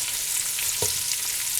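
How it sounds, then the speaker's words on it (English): Chuck roast sizzles steadily in a pan, with a soft scrape as it is stirred partway through a brief stretch. "Going to stir this up."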